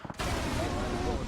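Rapid gunfire crackles and bursts in a battle royale video game match, dense and continuous across the whole moment, with distant-sounding shots layered together.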